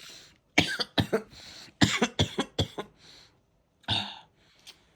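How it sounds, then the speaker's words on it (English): Several sharp coughs in quick bursts, a cluster of three or four, then another run, and a final rough cough after a pause, close and fairly loud. "talking is just making me cough"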